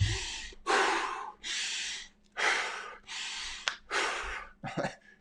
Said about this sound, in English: deep breathing in through your nose, out through your mouth, like 10 breaths while you jump